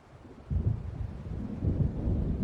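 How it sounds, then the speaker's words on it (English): Distant thunder of an approaching storm in Alan Wake Remastered, a low rolling rumble that swells in after a quiet start and keeps grumbling steadily, with no talking. "It seems there's a storm coming."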